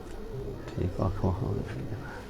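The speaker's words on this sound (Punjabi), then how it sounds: "ਇਹ ਜੀ ਕਮੱਗਰ ਕਬੂਤਰ ਹੈ ਜੀ" A Kamagar pigeon, a young male about one and a half to two years old, gives low rolling coos in a few bursts near the middle, close by, with people talking around it.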